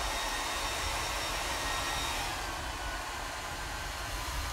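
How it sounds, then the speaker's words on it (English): A loud, steady hairdryer blast runs unbroken throughout, drying the wash on a painted Yoda miniature at close range with a broadband whoosh and no talking. "So you're going to hear a really loud hairdryer blast because our Yoda still isn't quite dry yet."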